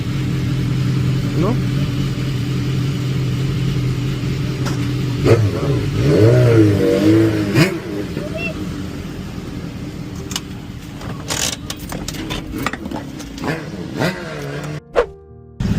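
A motorcycle engine revs and idles close by on a street, a steady low rumble with rising throttle swells in the middle, while someone talks over it and sharp clatters and knocks follow near the end.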